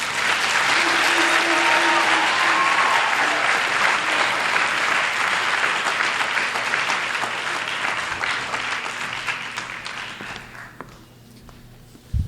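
Sustained audience applause after an award acceptance speech at a high school Black History Month celebration, loud and dense for most of the stretch, then gradually thinning and fading to a few scattered claps near the end.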